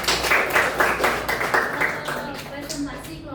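A school class clapping hands together, a burst of rapid, roughly rhythmic claps that gradually thin out, with voices talking over them in a classroom.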